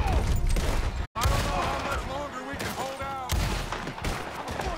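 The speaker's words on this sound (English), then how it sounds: "we're being constantly fired at" Heavy, sustained gunfire from the video game Red Dead Redemption 2 crackles in dense volleys, with one brief dropout, as a voice talks continuously over the shooting.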